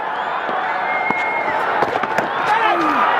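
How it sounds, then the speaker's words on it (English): Crowd at a cricket match cheering steadily in the background, a dense, fairly loud roar with scattered whistles and sharp shouts rising through it. "The cheers in the background are purely for Dipendra Singh Ari fielding on the boundary and waving to the crowd"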